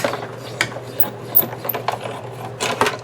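A hand-cranked die-cutting and embossing machine rolls through card stock, giving a series of close, rhythmic ratcheting clicks and grinding rubs over a steady low hum, with no voices.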